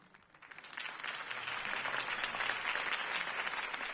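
Crowd applause swells after a campaign speech in the Batman Telltale video game, rising over the first half-second into a steady, dense wash of clapping that holds loud and even to the end.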